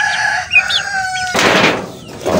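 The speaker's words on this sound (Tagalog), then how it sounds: "Tapos eto mga kamanok," Chickens cluck and a rooster crows nearby, followed by a rustling, noisy stretch of farmyard sound.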